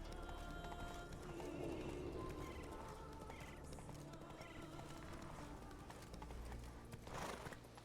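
Geralt's horse Roach galloping in The Witcher 3, a continuous quick clip-clop of hooves on the ground with a whinny, moderately loud under game ambience.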